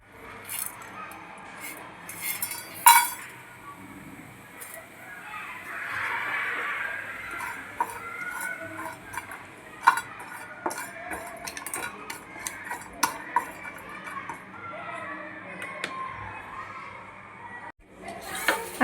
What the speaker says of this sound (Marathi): आता हा मसाला आपण कमी आचेवर भाजून घ्यायचा आहे.